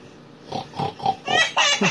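A human voice imitates a pig's oinking with about five short nasal grunts in quick succession, close and growing louder toward the end.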